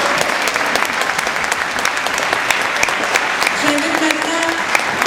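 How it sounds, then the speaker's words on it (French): Audience applause fills the room at an anniversary jubilee launch evening, steady dense clapping throughout with a few faint voices mixed in. "On les applaudit, s'il vous plaît."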